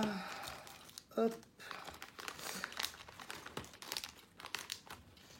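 Crinkling plastic packaging rustles and crackles in short bursts as Altaya partwork model kit parts are unwrapped, with someone talking over much of it.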